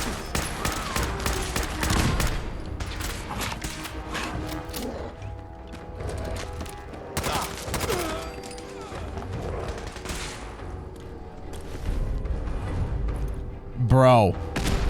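Scattered gunshots from a gun in the video game Fallout 4, sharp bursts spread through the clip over a game soundscape, with a louder impact near the end.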